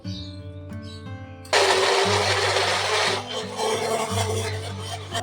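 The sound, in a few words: mixer grinder blending fruit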